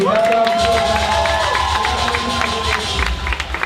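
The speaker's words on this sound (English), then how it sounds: "A lot of claps for Gina and Papi" A crowd at a Pride ball event cheers with whoops and voices while clapping runs underneath, loud and sustained, with a couple of sharper claps near the end.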